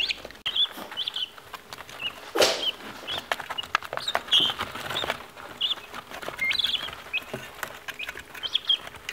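Baby guinea fowl chicks on a farm chirping and peeping in quick, high bursts, close by. Scattered pecking and rustling sounds run between the calls.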